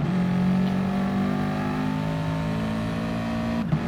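Race cars in a racing video game roar off the start at Laguna Seca, a steady loud sustained engine drone with a sharp downshift blip near the end.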